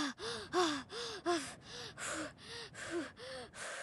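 Video game character from Schoolboy Runaway panting hard and out of breath, a steady run of quick gasping breaths repeating about every half second, close and fairly loud with no talk.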